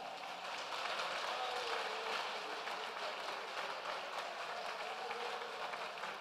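A church congregation claps during an evangelistic Portuguese-language service, a dense, steady wash of applause filling the room at moderate volume without letup for several seconds.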